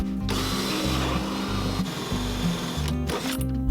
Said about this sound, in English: I'm going to pull this off to the edge and drill through it.